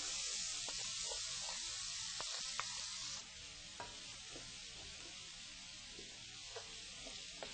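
Garlic and onion sizzle in a paella pan with a constant, fairly quiet frying hiss, punctuated by scattered small pops and light scrapes, with no voices.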